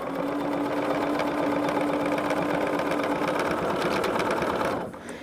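Sewing machine binding a quilt, a loud, close, steady whirring stitch run that stops abruptly near the end.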